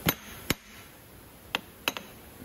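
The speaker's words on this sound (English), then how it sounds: "Switch to a brass drift and a hammer." A hammer strikes a brass drift to seat the A/C clutch on a 1999–2003 Ford 7.3 Powerstroke diesel, with five sharp metallic taps spaced irregularly, close and clear with no talk.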